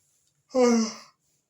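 A single drawn-out breathy yawn, voiced and fading, heard alone against silence.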